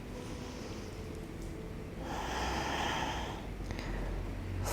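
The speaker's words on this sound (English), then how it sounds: "Breathe in for 4" A person draws a slow breath in during a breathing exercise, a soft airy inhale that swells to a fuller rush midway and then settles, close and quiet.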